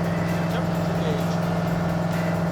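Loud car engine running steadily at speed from inside the cabin of a Roadkill project car, a constant droning roar with a strong low hum filling the whole stretch.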